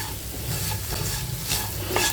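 Barnyard millet mixed with sugar is stirred in a pan for fasting upma, with soft scraping strokes and a light sizzle at moderate volume, no voices.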